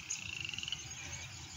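A frog croaks in a backyard lake with a quick rattling run of pulses, then a steadier trill, faint and somewhat distant over a low background hum.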